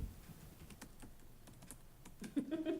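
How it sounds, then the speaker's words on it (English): Typing on a computer keyboard during a town finance committee meeting, with quiet, irregular key clicks spread across the clip, faint against room hum and soft low murmuring. "you're typing away"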